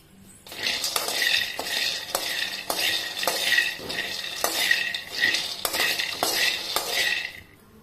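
Peanuts dry-roasting in a pan on a stove, stirred with a spatula: steady scraping and rattling clatter with repeated strokes, close and fairly loud, with no talking.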